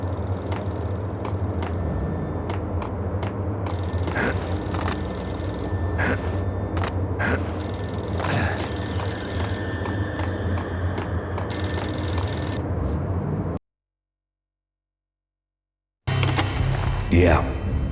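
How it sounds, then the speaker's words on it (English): Payphone bell ringing in the Max Payne video game, repeated rings over a steady ambient game bed, cut by a brief silence before noise resumes. "A payphone started to ring."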